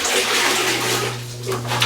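Water runs steadily from a tap into a bucket, a continuous rushing splash with a low hum beneath it.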